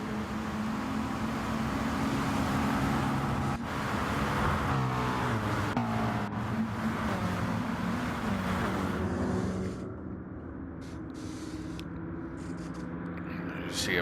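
GT race cars scream down a start-finish straight, engines droning loud and steady before one passes and fades into a thinner whine, with a race commentator talking over it.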